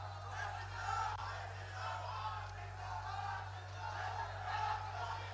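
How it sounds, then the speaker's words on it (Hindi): A large crowd at a political public meeting in Amethi, Uttar Pradesh, welcomes the Chief Minister with loud applause and cheering, a steady wash of clapping and voices over a constant low electrical hum. "जोरदार तालियों के साथ स्वागत"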